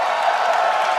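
Live crowd at PAX Prime 2013 cheering, a loud, steady wash of massed voices and applause filling the whole moment.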